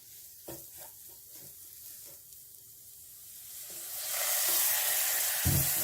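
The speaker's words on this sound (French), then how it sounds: "on va verser petit à petit un peu de lait de coco" Coconut milk poured gradually into curry cooking over low heat in a pan, a quiet sizzle with a few soft knocks that swells into a louder, bright hiss of frying liquid.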